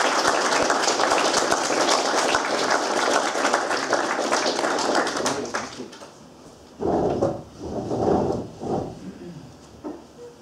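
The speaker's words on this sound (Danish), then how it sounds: "Skal vi klappe med den mere?" An audience applauds after a panel talk on Danish church life, with steady, dense clapping for about six seconds before it stops abruptly. A few scattered thumps and low sounds follow.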